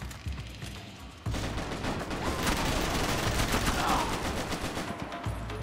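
Dense bursts of rapid gunfire from the video game Max Payne 3, loud and sustained, with overlapping shots and a brief lull before the shooting resumes.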